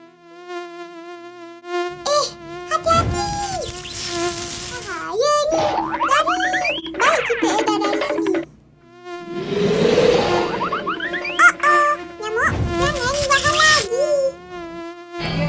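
High, whining mosquito buzz that wavers up and down in pitch, weaving between sung and spoken voice throughout, fairly loud and close.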